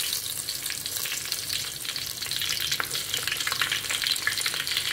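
Green chillies fry in hot oil for chicken biryani, making a continuous bright crackling sizzle that grows slightly denser midway, close and steady with no one talking.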